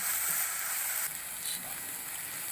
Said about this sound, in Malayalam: സവോള നന്നായി വാടാൻ വേണ്ടി ഇളക്കി കൊടുക്കും